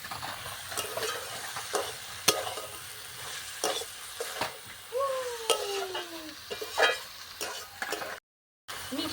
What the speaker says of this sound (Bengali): চিনিটা দিয়ে দিয়েছি একটু ভালো করে একটু নাড়িয়ে নেবো